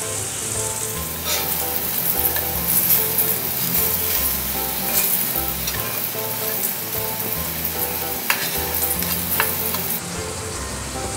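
Potato and sweet potato wedges frying in oil, a dense bubbling sizzle throughout, with scraping and clinks as the pieces are turned one by one.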